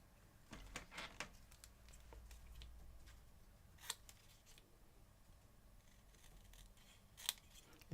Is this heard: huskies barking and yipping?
no